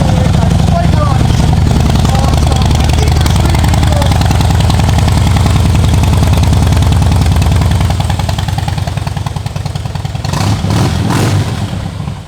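A Harley-Davidson Heritage Softail motorcycle engine fires up and settles into a loud, steady, lumpy idle, rumbling close by before a brief drop and a couple of revs near the end, with people talking over it.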